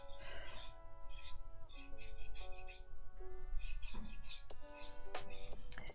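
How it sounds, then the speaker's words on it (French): A fired clay pottery piece being sanded by hand, a steady rasping, rubbing scrape that continues close up for the whole stretch over a sustained tonal background. "J'espère que le bruit du ponçage n'est pas désagréable."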